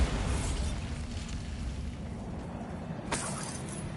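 A Bombarda explosion spell in a wizard video game, a loud crackling blast with a sharp shattering burst near the end, heard alone.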